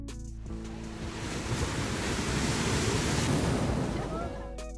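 Atlantic Ocean surf breaks where the Mampituba river meets the sea at Torres, on the Rio Grande do Sul–Santa Catarina border, a loud, continuous wash of waves that swells toward the middle, with wind noise on the microphone.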